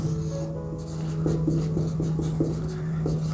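Marker or chalk strokes on a board during a geometry lesson: a run of short, rhythmic scratches up close over a steady low hum.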